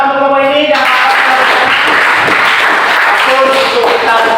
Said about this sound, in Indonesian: Tepuk tangan untuk kelompok ini dan